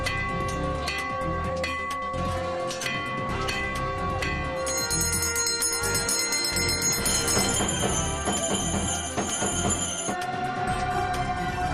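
Temple bells ring continuously in a dense, clanging wash with bright sustained metallic tones layered over a busy, loud background.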